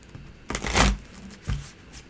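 Tarot cards are being shuffled by hand, a close, papery riffle that swells to a loud burst, followed by a shorter second shuffle against a quiet background.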